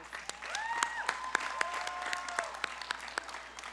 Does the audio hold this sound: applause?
yes